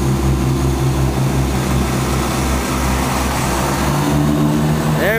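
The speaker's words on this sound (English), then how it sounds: "There he goes, he's opening up the throttle." Class 20 diesel locomotive 17205 pulling away from Needham Market station on a service to Ipswich, its engine throbbing loud and steady with a deep low rumble as the throttle opens, heard alone without talk.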